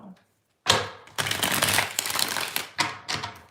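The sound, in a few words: shuffling tarot cards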